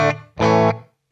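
Distorted electric guitar through a Sonicake Pocketmaster's Air room reverb with the decay turned down: a short chord, then a louder sustained chord that ends cleanly with only a brief tail, no voices.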